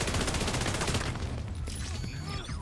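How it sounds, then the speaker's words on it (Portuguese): Rapid automatic gunfire in The Division 2, a dense stream of shots that thins into scattered bursts and ricochet-like whines, fairly loud throughout. "Tá atirando em mim?"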